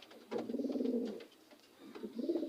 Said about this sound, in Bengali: এক তো আমাদের এখানে ঘরের পায়রা রয়েছে জানেন